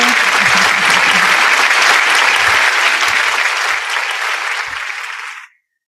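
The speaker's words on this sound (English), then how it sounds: "Would you like to give applause to him" Loud, continuous audience applause for a speaker at an online international joint seminar, holding steady before tapering and cutting off abruptly.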